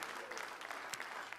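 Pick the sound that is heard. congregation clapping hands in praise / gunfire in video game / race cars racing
congregation clapping hands in praise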